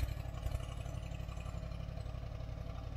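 A small French-made tracked loader's engine at idle, a steady low, throbbing mechanical rumble held evenly and close throughout with no speech.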